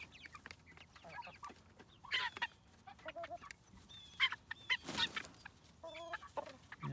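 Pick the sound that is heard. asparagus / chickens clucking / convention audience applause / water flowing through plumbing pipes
chickens clucking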